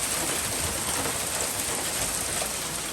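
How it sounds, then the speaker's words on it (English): Steady rain pours down outdoors during brake pad and rotor work on a Chevy Cruze, a dense, even hiss of drops hitting surfaces close by, unbroken and with no voices. "Look at the rain"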